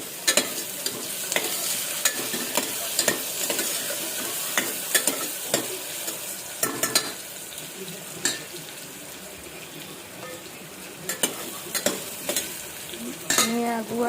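Stuffed tomatoes sizzle among frying onions in a pan and are stirred with a spoon, giving a steady soft frying hiss broken by repeated scraping and clacking stirs, fairly close.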